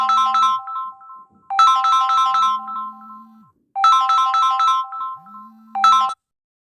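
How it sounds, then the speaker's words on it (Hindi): A phone ringtone plays in two repeated bursts of bright, chiming electronic tones, loud and close with brief pauses between, and no voices. "बीच में थोड़ा फ़ोन आ गया था"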